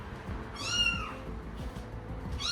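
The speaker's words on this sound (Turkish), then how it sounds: "Kedi sesi falan açsana o zaman." A single drawn-out cat meow, fairly quiet, rising and falling, followed by a faint start of another at the end.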